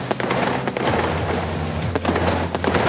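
Fireworks go off at a goods transport alliance camp to celebrate a strike settlement, a dense crackle of bangs and pops over a constant rumbling crowd-like wash, loud and continuous.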